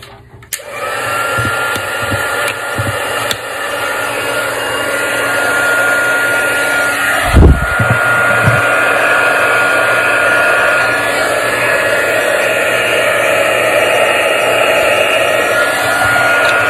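A heat tool melts embossing powder on a stamped greeting card, giving a steady, loud blower-like whoosh that runs almost the whole time with a brief bump in the middle and no talking.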